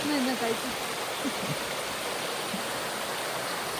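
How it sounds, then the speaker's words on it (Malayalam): A steady, broad rush of falling water roars continuously, with a faint voice briefly audible at the start. "നമ്മൾ നോക്കിയ ഒരു വെള്ളച്ചാട്ടം കാണാൻ വന്നേക്കുവാണ്"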